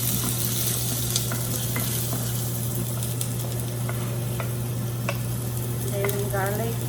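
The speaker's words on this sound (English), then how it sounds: "I'm gonna put the onions first. I'm gonna saute it" Onions sauté in a pan, a steady close sizzle with scattered pops and spatula scrapes, while a voice speaks briefly near the end.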